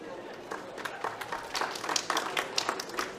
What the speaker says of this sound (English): another round of applause for Sonia